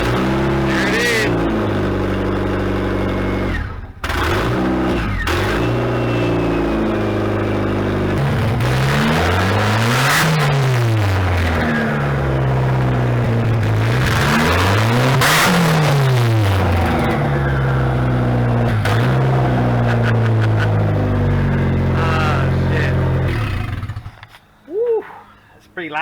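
Mazdaspeed Protege fitted with a Garrett GT25/40R turbo and no downpipe or exhaust, revving loudly and close by, with repeated rising and falling engine sweeps over a steady idle and people talking around it before it cuts off.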